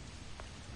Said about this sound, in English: I think it's just because it's raining